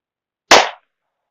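A single loud, close gunshot from a 9mm handgun firing +P loads, a sharp crack with a brief decaying tail in otherwise silent surroundings.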